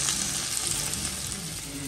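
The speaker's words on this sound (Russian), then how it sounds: "Обваливаем все в муку и обжариваем в раскаленном масле." Onion and garlic dredged in flour frying in hot oil in a pan, giving a close, steady crackling sizzle that holds throughout the brief moment with no voices.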